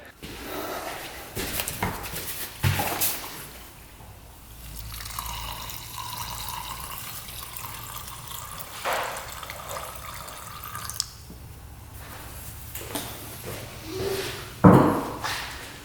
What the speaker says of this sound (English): we're just draining some fuel into a clear cup